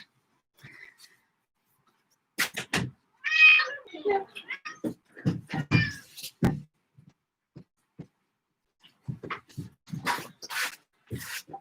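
A pet cat, a boy, meows several times in a quiet indoor room, the calls close and clear, interspersed with short gaps and some handling noise; no one speaks over them.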